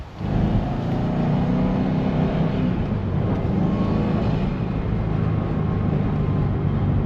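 A 2004 Subaru WRX STI engine runs steadily and loudly from start to finish, a dense close rumble with a turbo note rising faintly partway through, and no talk over it.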